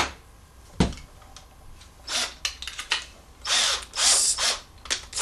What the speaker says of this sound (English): stick it into a drill, and then when you put this baby on here, it makes quick work